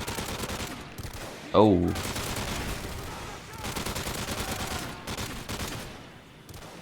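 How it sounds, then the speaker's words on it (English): Gunfire in Modern Warfare 3 Survival mode, with dense rapid shots running through the clip, one loud burst standing out near the middle, and a brief spoken exclamation. "When you're shooting chemical agents, just always try to aim for the gas tank."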